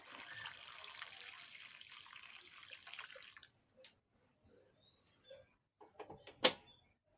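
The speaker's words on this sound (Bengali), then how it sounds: "তার জন্য আমি এর মধ্যে দিয়ে দিচ্ছি আর একটু গরম জল" Hot water is poured into a sour lentil soup with green mango, a steady close splashing stream for about three seconds, then a few brief drips and light knocks.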